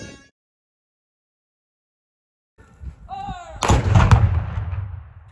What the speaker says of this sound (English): fire effectively a siege cannon such as this